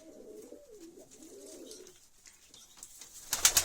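Pigeons coo in a coop on a cold winter day, a rolling, low murmured call repeating for about two seconds before fading, followed by scattered faint rustles and a louder burst of scuffling at the end.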